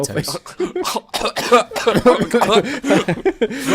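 Coughing and spluttering fits mixed with laughter and excited chatter from several people, fairly close and loud throughout.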